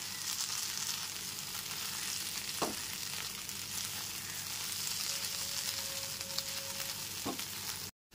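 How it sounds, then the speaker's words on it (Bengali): Kochur loti (taro stolons) stirred in a pan over a low-to-medium gas flame, giving a steady soft sizzle with a couple of brief scraping strokes, close and continuous, with no voices. "তার উপর থেকে নিচে খুব ভালো মতো নেড়ে নিলাম।"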